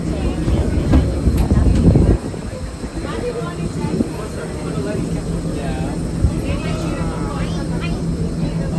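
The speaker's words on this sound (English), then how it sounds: "What do you expect? It's an older train." Rumbling, rattling noise of an old museum train riding runs throughout, louder for the first couple of seconds, with faint squeals and scattered voices beneath.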